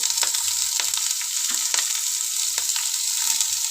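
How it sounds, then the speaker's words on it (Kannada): Chilli, onion, carrot and peas fry in hot oil in a pan, a steady close sizzle with occasional scraping stirs of a spoon, and no talking. "ಕ್ಯಾಪ್ಸಿಕಮ್ಮು ಎಲ್ಲನೂ ಚೆನ್ನಾಗಿ ಫ್ರೈ ಮಾಡ್ಕೊಳ್ಳೋಣ"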